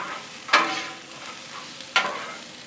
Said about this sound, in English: Let's throw down all our peppers. Mix them up.